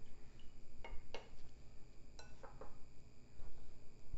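A broccoli salad with red paprika and jalapenos is tossed in a bowl, giving a few soft, scattered clinks and scrapes of utensils, quiet and close.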